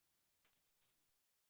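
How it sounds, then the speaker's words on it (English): A brief, faint high-pitched bird chirp from outside through an open window, a few quick notes in otherwise near silence. "I can hear the birds in the background."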